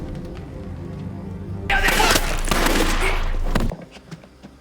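A sudden burst of rapid gunfire in a film, lasting about two seconds, loud and dense, then cutting off abruptly to a quieter background.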